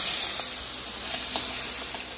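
Small fish frying in hot oil for a gourd curry give off a steady sizzle and hiss through the short stretch, with a few faint crackles and no voices.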